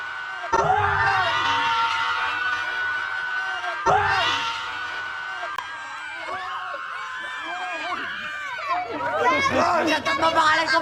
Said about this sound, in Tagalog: sigaw muna kayo, sigaw